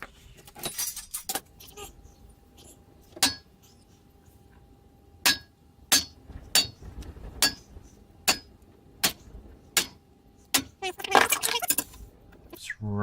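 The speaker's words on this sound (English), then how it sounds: "So if I centre punch them first, then I'm not going to take my marks away." A hammer strikes a centre punch to mark steel for a homemade wood burner, giving a dozen or so sharp metallic taps at irregular intervals, some close together, over quiet shop background with a brief jangle near the end.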